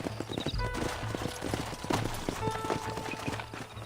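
Horses' hooves clop in a brisk, uneven rhythm as riders dismount in the Red Dead Redemption video game, with occasional snorts and a whinny over ambient game sound.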